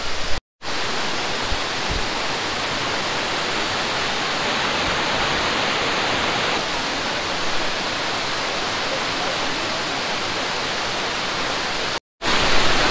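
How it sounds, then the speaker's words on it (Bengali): Durga Falls, a waterfall in Purulia along a rocky path, roars as a dense, steady broadband rush of falling water, loud and close, continuous throughout apart from two brief dropouts, with no talk. "দারুণ একটা জলের আওয়াজ"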